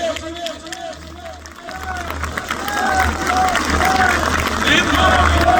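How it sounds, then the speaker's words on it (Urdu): Loud, sustained applause and crowd noise fill a Shaban celebration gathering in Rawalpindi, swelling in the second half. A voice chants over it in repeated sweeping tones. "زوردار تالیاں مولا کی آمد کی خوشی میں"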